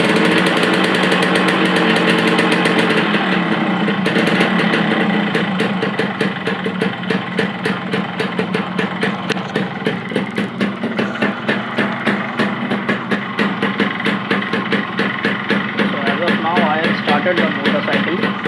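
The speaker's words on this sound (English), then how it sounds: "Started the motorcycle" A two-stroke motorcycle engine with an Autolube oil pump idles steadily and loudly up close, its rapid even pulsing running throughout after a rougher first few seconds.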